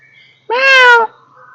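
A person imitates a cat's meow beside the wild cat enclosure at a Bangalore zoo: a single clear, tonal, drawn-out call lasting about half a second, close and alone in otherwise quiet surroundings.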